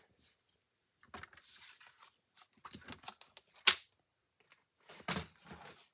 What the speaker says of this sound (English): So let me bring in my paper trimmer and scoring tool.